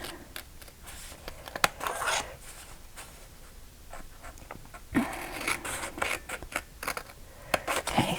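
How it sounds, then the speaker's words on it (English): Scissors snipping through card stock while making a pop-up Mother's Day card, close and fairly quiet, with irregular short cuts and rustling paper, no talk. "I'm going to cut this piece off."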